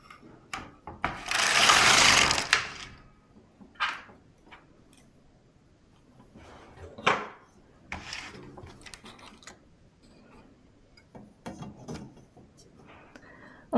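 Brother LK150 knitting machine knitting rows in waste yarn: a long loud rasping carriage pass, then scattered sharp mechanical clicks and clacks at irregular intervals, close and without talk.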